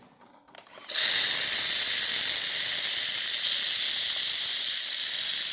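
A Jura ENA Micro 9 coffee machine runs its cappuccino cleaning cycle, starting after a few clicks with a sudden loud, steady steam hiss that continues unbroken at close range.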